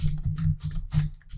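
Rapid clicking on a computer keyboard while typing Python code, a close and fairly loud run of keystrokes in quick bursts over a low hum.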